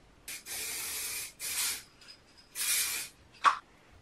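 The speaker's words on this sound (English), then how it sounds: "So I'm gonna give this a little spray paint, spray glue" Close-up spray-glue aerosol can spraying onto felt in three sustained hissing bursts separated by short pauses, followed by a brief knock.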